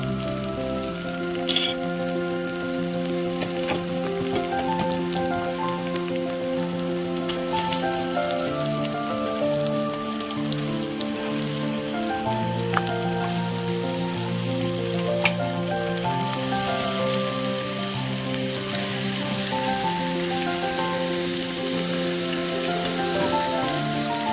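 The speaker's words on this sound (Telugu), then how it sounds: "మ్యాగ్నేట్ చేసి పక్కన పెట్టుకున్నటువంటి చికెన్ యాడ్ చేస్తున్నామండి." Marinated chicken for a Telangana-style chicken masala curry sizzles steadily in a pan, a continuous soft crackle that runs beneath prominent background music throughout.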